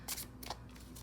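Playing cards are shuffled overhand in a few soft, quick papery bursts of riffling and sliding, faint and close, over a low hum.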